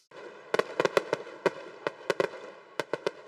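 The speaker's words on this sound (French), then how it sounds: "Les feux d'artifice organisés dans le jardin extérieur du Meiji-Jingu sont un des divertissements préférés de l'été à Tokyo" Summer fireworks display at the outer garden of Meiji Jingu in Tokyo, a rapid run of sharp booming bursts at irregular intervals, some doubled, heard in the distance with no voices.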